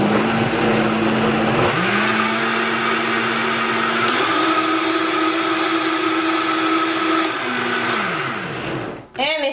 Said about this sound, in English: Gonna do one more blend.